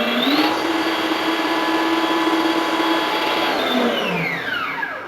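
An electric blender whirs steadily while mixing cake batter, a loud continuous motor drone that starts up with a rising pitch and winds down near the end, with no talking.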